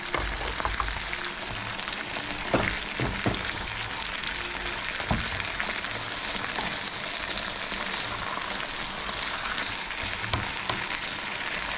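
Shrimp sizzle loudly in a pan after sauce is poured in, a dense, steady crackle lasting throughout with a few sharper pops and scrapes, close up and with no talking.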